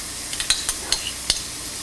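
Onion, ginger, garlic and curry leaves frying in a pan for liver fry, with a soft continuous sizzle and a few sharp scraping clicks of a spoon stirring close by.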